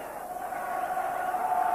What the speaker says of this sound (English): Brought along the usual crowd of supporters in good voice this afternoon.